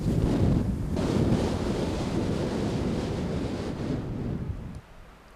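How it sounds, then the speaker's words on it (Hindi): Long, forceful exhale during pranayama breathing practice, a steady rushing breath close to the microphone lasting several seconds before it fades out. "फूंक मारते हुए सांस बाहर, फिर से सांस लीजिए।"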